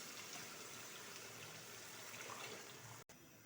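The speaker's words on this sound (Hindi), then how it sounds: "यखनी को ऐड करेंगे।" Beef stock (yakhni) is poured into a pot of beef paya curry, a quiet continuous liquid rush and trickle that runs steadily for about three seconds before a brief cut, with no voices.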